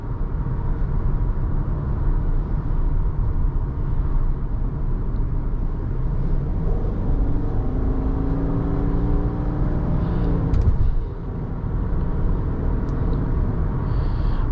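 A 2021 Subaru Forester Touring rolls along the road, its steady low engine and tyre hum droning from inside the cabin, rising briefly under light acceleration with a short dip and a faint click near the end, no talking.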